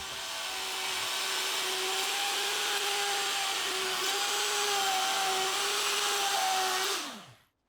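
A wood router cuts a plywood circle in light passes, making a loud, steady high-pitched whine. It runs unbroken for about seven seconds, then spins down at the end.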